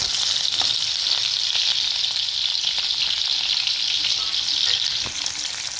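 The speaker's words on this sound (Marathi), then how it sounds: "आपल्याला मिरच्या छान परतून घ्यायच्या आहेत।" Green chillies sauté in hot oil in a pan, giving a loud, steady, bright sizzle close by with a few light stirring knocks.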